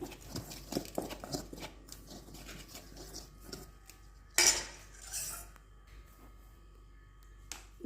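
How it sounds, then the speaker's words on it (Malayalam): Batter for a jackfruit-seed snack mixed with a spoon in a bowl, a string of quick soft clinks and scrapes, then a louder sustained scrape, close by and without voices. "ഇതിനൊന്ന് മിക്സ് ചെയ്ത് കൊടുക്കാം."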